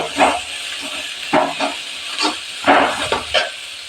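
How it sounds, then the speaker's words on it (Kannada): Onion frying in oil in a home kitchen pan while a tomato dish is cooked, giving a steady close hiss. Brief stirring or scraping bursts break in every second or so. "ಸ್ವಲ್ಪ ಈರುಳ್ಳಿ ಫ್ರೈ ಆಗಬೇಕು ಎಣ್ಣೆಗೆ"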